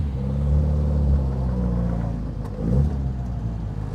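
A 1967 Morgan Plus 4 Super Sport with a 2.2-liter engine and Weber carburetors pulls away on the road, a loud, close, low engine rumble that swells as it revs up and then steadies, with no talking.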